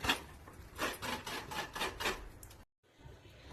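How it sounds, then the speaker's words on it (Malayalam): Coconut is grated by hand in a rhythmic series of rasping scrapes, about six strokes close to the microphone, then a brief silence and a quiet continuation. "അപ്പൊ നമ്മൾ തേങ്ങ ചിരകി വെക്കണം ഗൈസ്. ഇത് മൊത്തം ചിരകി വെക്കണം."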